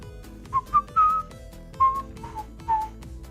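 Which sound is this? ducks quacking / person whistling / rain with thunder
person whistling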